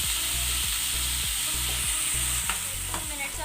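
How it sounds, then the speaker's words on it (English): Potatoes fry in a pan with a steady, close sizzle while a utensil stirs them, scraping and knocking against the pan in a regular rhythm. "You have to fry it until it's golden brownish color."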